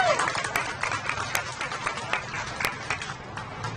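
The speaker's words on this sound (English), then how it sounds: "If we can, keep the round of applause going for Edith." At a Memorial Day parade ceremony, the crowd gives sustained applause that fills the whole stretch, mixed with a few sharp claps and voices in the crowd.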